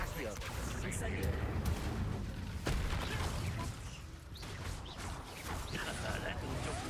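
Incendio fire spell cast in a Harry Potter video game during a fight, dense crackling bursts and booming blasts packed together over busy combat effects.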